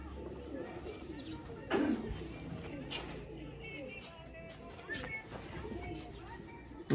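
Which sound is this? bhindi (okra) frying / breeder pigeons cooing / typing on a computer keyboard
breeder pigeons cooing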